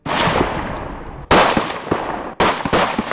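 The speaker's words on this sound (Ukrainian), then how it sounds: "Стріляли з пістолета Макарова" Sharp Makarov pistol shots crack one after another, three loud reports with short reverberant tails over a noisy outdoor background at a shooting range in Chernihiv.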